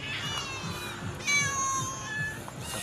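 Several cats meow close by in a steady run of overlapping calls, hungry and waiting for a meal of sardines.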